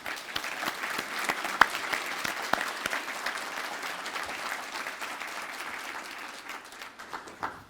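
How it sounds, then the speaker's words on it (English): Sustained applause from an audience at a charity lunch celebration, steady and fairly loud throughout with scattered sharper claps, fading slightly at the end; no speech over it. "and if we could give them one more round of applause"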